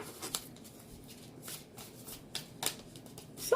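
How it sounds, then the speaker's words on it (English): A deck of tarot cards is shuffled by hand close up. Several quick riffling bursts are separated by short pauses, with no talk. "I'm shuffling to find an answer"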